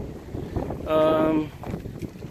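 Gusty wind of about 20 mph gusting to 40 buffets the microphone outdoors beside a GMC motorhome under renovation, a steady low rumble that swells into a louder gust midway, with a brief tonal whine.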